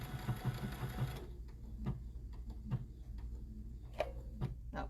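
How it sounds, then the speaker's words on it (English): A sewing machine stitching fabric whirs in a quick rhythmic burst, then stops, leaving scattered soft ticks and clicks from the machine nearby. "I am sewing crooked here, but I think it's because I'm sitting crooked."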